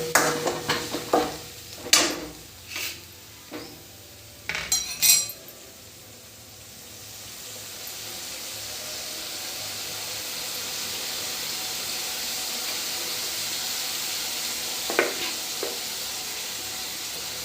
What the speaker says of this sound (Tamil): நல்லா அந்த மாதிரி கிளறி விட்டுட்டே இருங்க ஈவனாக. அப்போ தான் அந்த பச்சை வாசம் போகிற வரைக்கும் இந்த மாதிரி வதக்கிக்கோங்க.